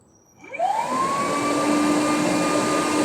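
An EGO shop vacuum, WDV0904 or WDV0900, starts up on speed 1, its motor whirring up from quiet to a steady, moderately loud hum and airy rush that holds without talk.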